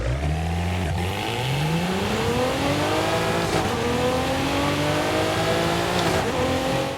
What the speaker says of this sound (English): now let's go ahead and take a listen to that engine